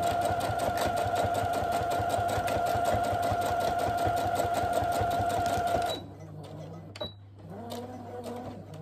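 Sewing machine running steadily for about six seconds while stitching a small fabric project bag, a loud continuous whir with rapid needle rhythm, then stopping abruptly into quieter room noise with a faint voice.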